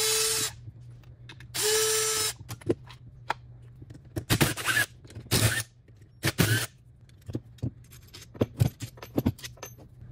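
Tools clink and rattle while a car alternator case is bolted back together on a 3-litre Marcos GT, with two loud power-tool whirs followed by scattered metallic taps and clatters nearby.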